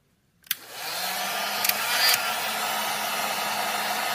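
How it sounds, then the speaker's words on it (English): A heat gun on its low setting blows heat shrink tubing tight over a CEBA connector, starting with a click and then a steady, loud airflow hiss that runs on without talk. "you want to put your heat gun on low"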